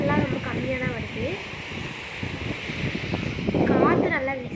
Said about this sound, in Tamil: காற்று நல்லா வீசுது.